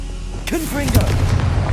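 A Confringo fire spell bursts in Hogwarts Legacy, a heavy booming blast with crackling debris over a steady rumble, as a voice chirps briefly through the impact.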